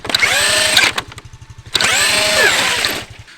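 A Traxxas X-Maxx 8S RC truck's electric motor whines loudly in two long bursts, rising and falling in pitch with a short quieter gap between them, as the upturned truck tries to flip itself back onto its wheels.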